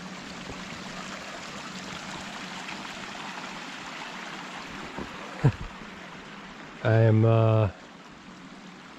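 Shallow stream flowing around a small island on the Walnut Run Trail in Poplar Grove, Pennsylvania: a steady broadband water rush throughout, with a sharp knock midway and a brief spoken phrase near the end.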